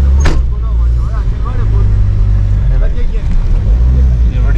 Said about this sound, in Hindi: आराम से निकल गई है बड़ी गाड़ी